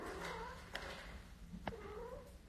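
A domestic cat meows and caterwauls in a drawn-out, wavering cry close by, with a couple of sharp bumps along the way and no talking over it.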